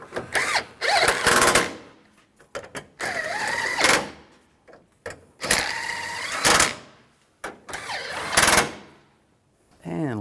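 A power drill drives fasteners home on a 2007-2013 Chevrolet Silverado during horn replacement, giving several short whirring bursts with pauses between them while a person talks.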